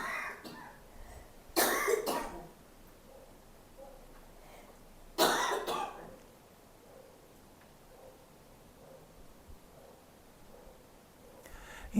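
Two sharp coughs, a few seconds apart, stand out against a quiet background, with a faint rustle near the end.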